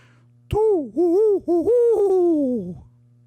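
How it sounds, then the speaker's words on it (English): A barred owl gives a clear, rhythmic series of hooting calls in a night forest, with the phrase ending in a drawn-out, descending note over a low, steady background hum. "off in the distance, the hoot of a barred owl"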